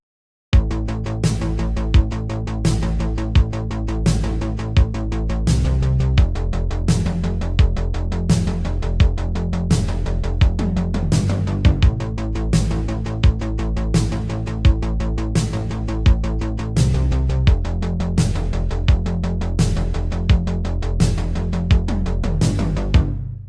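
A synthwave track built on a pulsing synth bassline and steady driving drums plays loud and continuous, with layered synth chords and regular percussive hits, and no voices.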